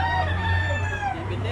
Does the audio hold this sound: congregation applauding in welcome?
no